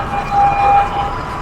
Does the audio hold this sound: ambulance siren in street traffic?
yes